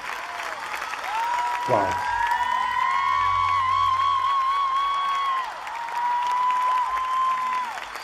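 A concert crowd cheers and applauds, a dense wash of clapping and whoops holding steady throughout, with a sustained sung note ringing over it and a voice exclaiming briefly nearby.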